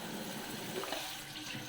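Steady running water pouring and splashing close by into a cooking pot, a continuous hissing rush with no voices.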